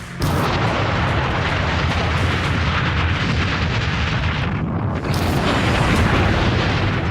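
A Russian weapon striking a Ukrainian warship, heard as a loud, sustained roaring blast with rumbling explosive bursts and a brief dip before the roar swells again, no voices.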